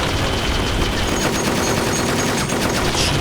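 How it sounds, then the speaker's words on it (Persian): Minigun in Metal Gear Solid: The Twin Snakes pours out a relentless, dense stream of rapid fire, loud and unbroken for the whole stretch with no pauses between bursts. "مینیگانیه"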